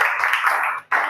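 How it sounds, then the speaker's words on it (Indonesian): A short burst of hand clapping from a small group in a classroom, close and brisk, briefly pausing before resuming. "beri tepuk tangan untuk Mas Hasani"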